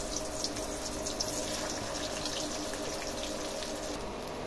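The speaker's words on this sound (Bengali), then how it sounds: "করলাগুলোকে এবার তেলের মধ্যে দিয়ে দিলাম।" Bitter gourd pieces coated and dropped into hot oil in a wok give a steady, dense sizzling hiss that holds at an even level throughout, with no voices.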